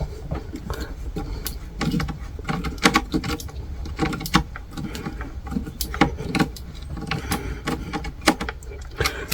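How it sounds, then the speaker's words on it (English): Self-tapping screws driven into a metal ammo can being built into a Bluetooth speaker, giving a busy run of close, clattering metallic bursts and short ratcheting spurts throughout, with no talk. "using self-tapping screws for fastening this."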